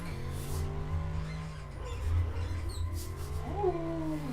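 A video game car's engine whines steadily as it slides sideways on the handbrake, with a rising tire squeal and skid near the end layered over the drone.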